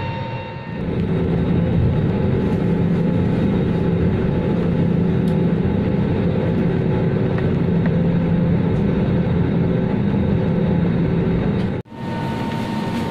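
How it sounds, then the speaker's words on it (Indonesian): Cabin of a Batik Air airliner flying from Batam to Medan, a loud steady engine drone and air roar throughout, broken by a short dip near the end. "Saya sudah naik di bandara dan naik pesawat mau menuju ke Medan."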